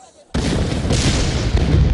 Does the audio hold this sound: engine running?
no